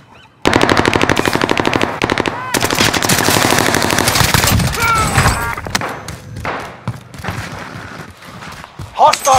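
Rapid, loud machine gun fire in Call of Duty rattles in long continuous bursts, then breaks into shorter volleys mixed with thuds and other game effects near the end.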